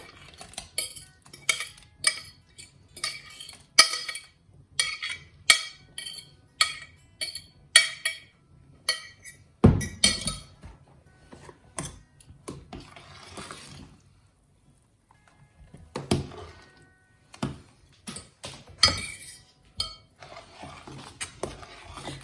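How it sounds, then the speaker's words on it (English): Metal utensils clinking and scraping against a pot while spinach is added and stirred into a cooking curry, a steady rhythm of close, crisp clinks with brief pauses. "Then I will add at this stage spinach"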